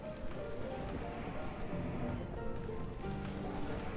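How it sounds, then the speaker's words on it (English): Steady rain falls in the village-building video game Banished, a soft, even patter of drops continuing throughout at low volume. "And by God, it does rain a lot in Banished."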